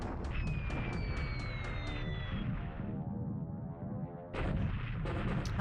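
Bombs exploding in a simulated Pearl Harbor strike in the War in the Pacific game, a dense roar of booming blasts and gunfire with rapid repeated impacts, loud and continuous with no talk.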